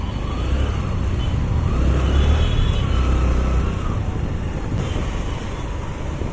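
A car drives along a road toward Gandhipuram with a steady low road rumble and wind buffeting, heard from inside or close by, with no talking.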